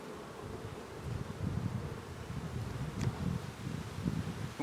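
Honeybees buzz steadily around an open beehive during a spring hive inspection, a dense, low droning hum that holds throughout with slight swells, close and fairly loud, with no talking.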